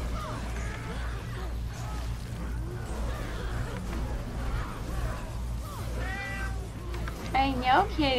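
A pet cat named Mr. Jag meows repeatedly indoors, several drawn-out cries close by, with a louder, higher meow near the end, while people talk throughout over a low steady hum.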